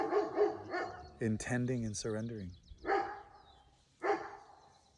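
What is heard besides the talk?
dog barking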